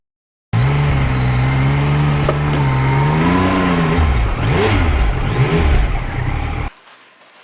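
A Yamaha MT-09 motorcycle engine revs hard and close, a loud continuous roar that rises and falls in pitch through several throttle swells before cutting off abruptly.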